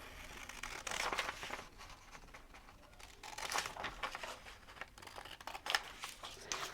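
Scissors cutting a paper sewing pattern piece for a lace upper bra cup, giving a soft crinkly snipping and rustling that runs continuously at close range without speech.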